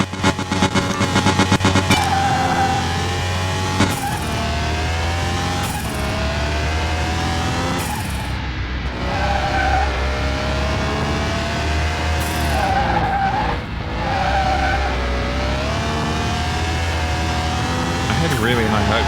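Car driving and skidding in Car Mechanic Simulator, engine droning steadily throughout with repeated tire skids, loud and continuous, while someone talks over it.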